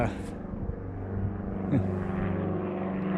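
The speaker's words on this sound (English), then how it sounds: "airplane." A propeller airplane droning overhead on a farm during wheat planting, a steady low engine hum running throughout and growing slightly louder, with a brief clunk partway through.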